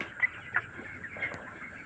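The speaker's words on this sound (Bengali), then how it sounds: "দেখেন এটা মুরগি" Broiler chickens 25 days old make soft, scattered clucks and chirps in a farm shed over a steady background hum, fairly faint and with no talking.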